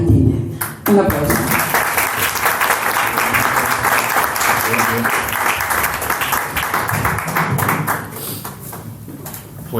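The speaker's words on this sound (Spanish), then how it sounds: "Un aplauso." A crowd at a carnival-association conference in a peña hall applauds loudly and steadily for about ten seconds, dense clapping filling the room with a brief dip near the start.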